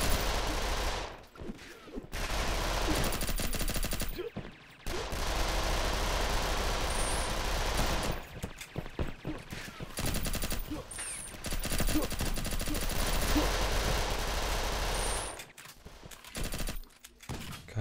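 Sustained bursts of automatic gunfire in the video game Red Crucible 2, long loud volleys broken by a few short silent gaps, with the shooting continuing steadily between them.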